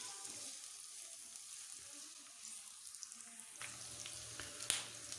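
Onion frying in hot oil in a pan, a steady soft sizzle with faint clinks and a louder crackle near the end, no talking.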